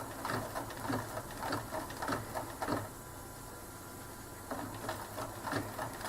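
A sewing machine stitches a tissue holder in bursts of fast, close mechanical whirring, pausing briefly mid-run before starting again, with no talk.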